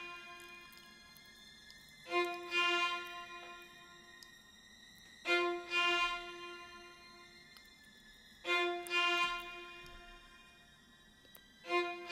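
Quiet, high sustained sampled violin notes layered into a shimmering texture, swelling in four soft recurring pulses over a faint steady background.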